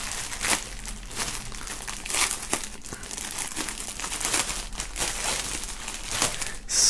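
Plastic foil being unwrapped from unboxed products, a shirt and a bag, with continuous close crinkling and rustling, steady and loud, with no talking.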